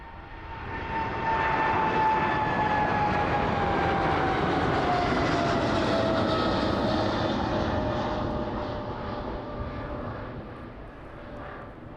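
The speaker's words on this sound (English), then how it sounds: "Very, very shiny aircraft there this evening, making its way out of East Midlands." A gleaming jet airliner taxis out at East Midlands Airport in the evening, its engines giving a steady, loud whine with rising tonal lines that holds for most of the stretch and eases slightly toward the end.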